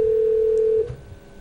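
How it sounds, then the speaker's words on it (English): A single steady electronic ring tone from a telephone on speakerphone, sustained and fairly loud for under a second before cutting off, leaving a quiet room hum behind. "It's ringing."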